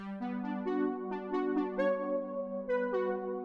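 Soft synth pluck preset from an Analog Lab bank plays a short melodic phrase of bright, harmonically rich plucked notes, each decaying quickly, clean and alone.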